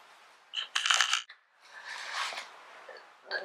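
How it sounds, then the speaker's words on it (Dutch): Two shopping-cart tokens from Gamma and Lidl are taken out of a bag, giving close metallic clinks and rustles in two short bursts with a brief jingle at the end. "Het laatste wat hierin zit zijn nog 2 muntjes voor de winkelwagentjes."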